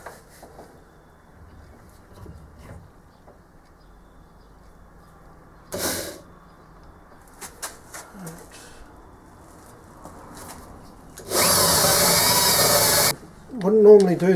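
A power drill runs in a short, loud burst of about two seconds while drilling a hole in a workshop, following quiet handling noises and brief knocks, with someone talking between sounds.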